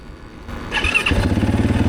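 A 2023 Yamaha WR450 motorcycle engine fires up and settles into a steady, throbbing idle close by as the bike rolls down a driveway, with a brief higher squeal before the rumble takes over.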